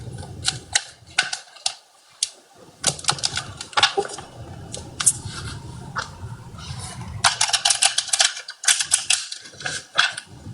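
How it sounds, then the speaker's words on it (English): Tarot cards being shuffled by hand, a run of crisp close riffling clicks and snaps in irregular bursts with short quiet gaps. "Let me shuffle these for real."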